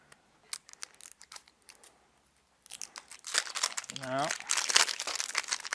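Discreet adhesive tape being handled and peeled, with crinkling and tearing bursts that build up close and loud after a quiet start, while a person speaks briefly.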